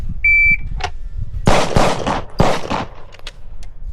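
Gunshots fired during a box shooting drill on a range, a tight burst of several sharp loud reports after a short electronic start beep, close and forceful with echoing tails.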